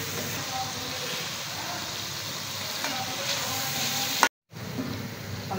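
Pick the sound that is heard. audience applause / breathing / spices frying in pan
spices frying in pan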